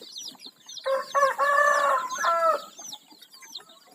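Five-day-old chicks cluck and squawk in a short busy burst in a coop, with higher chirps and peeps running throughout, fairly close and loud.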